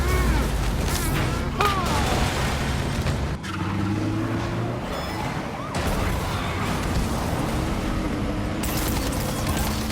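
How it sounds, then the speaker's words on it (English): Rockets fire amid a chaotic gunfight in the video game Marvel's Spider-Man Remastered, with repeated bursts and booms over a dense layer of noise and game music. "why is everyone shooting rockets all of a sudden?"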